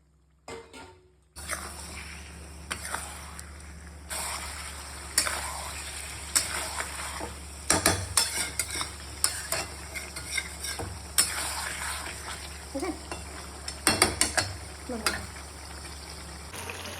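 Chicken pieces fry in a cooked-down spice paste, with a steady close sizzle and repeated sharp clinks and scrapes of a spatula against the pan, and a bit of speech underneath.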